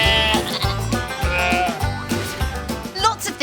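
Sheep bleat repeatedly in short, wavering calls over a steady rhythmic musical backing, several overlapping voices close by.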